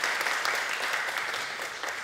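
A church congregation applauds warmly and steadily, a dense wash of many hands clapping together for about two seconds, even and sustained without pause.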